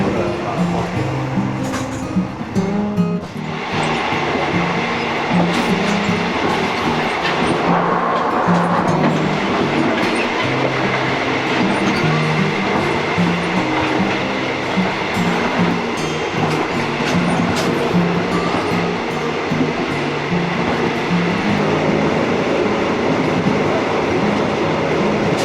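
An overnight sleeper train in Thailand rolls steadily along its rails with a constant rumble and a rhythmic clickety-clack of the wheels, heard from inside a carriage, while faint voices talk now and then.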